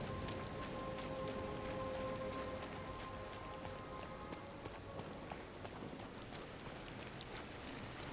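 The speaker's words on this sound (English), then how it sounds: "Man, it's raining cats and dogs in this game now." Heavy rain pours steadily in the Disney Dreamlight Valley video game, a dense, continuous hiss with faint tonal music lines underneath, no talking.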